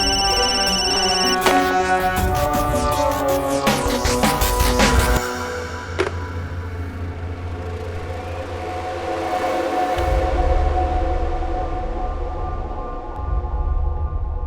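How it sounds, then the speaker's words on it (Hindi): Phone ringing in a crime drama scene, an electronic ringtone melody with layered tones playing loudly for about five seconds, then a sharp click followed by low rumbling background sound. "पुलिस का फोन आ रहा है"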